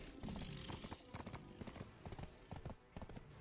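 Horse hooves clip-clopping in a video game, a steady run of close, rhythmic hoof strikes with no talk over them.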